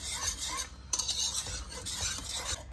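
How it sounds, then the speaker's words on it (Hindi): A spoon stirs custard steadily in a pot over a low flame for a trifle, making continuous close scraping and swishing sounds against the pot with no talking. "इसे हमने कॉन्स्टेंटली स्टर करना है लो फ्लेम के ऊपर"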